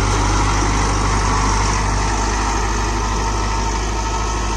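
A Mahindra Novo 605 DI CRDI 60 HP tractor engine labours steadily while pulling a plough through soil in a field, a loud continuous low diesel drone close by with no talk.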